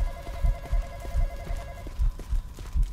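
Rhythmic heartbeat thumps pulse steadily in the Roblox horror game Midnight Hours, about two beats per second, low and throbbing over a sustained electronic hum.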